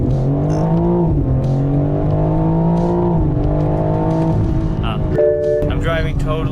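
BMW M4 G82 with Stage 1 chip tuning accelerating hard in a 0-100 run, a loud steady engine drone with rising harmonics and gear-shift steps, heard from inside the car with a voice talking over it.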